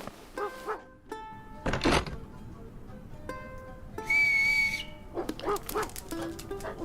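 Toby, a pet dog, barks in a few short, sharp bursts with a whistle-like ring, spaced across the scene alongside a brief thump and a high whistling tone.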